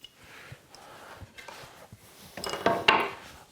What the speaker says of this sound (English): drop my knife on the floor